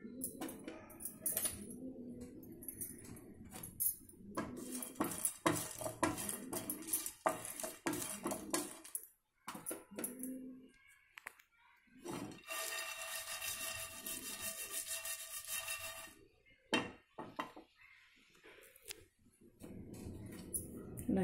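Cardamom pods being lightly dry-roasted in a pan for masala tea powder, stirred with a utensil that scrapes and rattles against the metal in repeated bursts, while someone talks over much of it.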